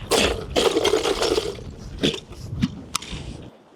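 Freshly caught horse mackerel sloshed and shaken in a container of salt water to bleed, a loud splashing churn up close with a few sharp drips and knocks as it settles.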